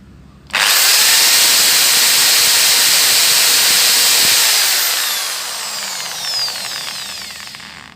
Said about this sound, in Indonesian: Sekarang beban kita dari mesin bor ini kita nyalakan